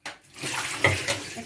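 Water gushes and splashes as it is drained off boiled potatoes, a short, close burst of pouring in a kitchen.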